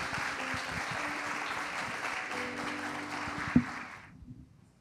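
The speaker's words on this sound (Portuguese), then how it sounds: "palmas para Cristo" A church congregation claps hands in a lively, fairly dense patter with some rhythmic beats underneath, then the clapping stops abruptly near the end, leaving near silence broken by a single sharp knock and a few soft sounds.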